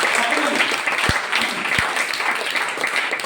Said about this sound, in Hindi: कम से कम एक बार अपने लिए आप लोग जोरदार तालियां तो बजाइए